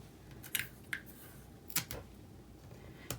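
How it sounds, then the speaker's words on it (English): Scissors snipping paper to cut out a lipstick shape for a handmade card, a few quiet, separate crisp snips spaced irregularly over near silence. "Now we can only cut out one lipstick at a time."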